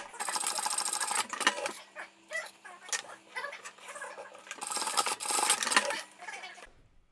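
A sewing machine stitches a new tongue onto a Converse shoe, with uneven bursts of needle clatter, ticks and handling noises, close up and without speech.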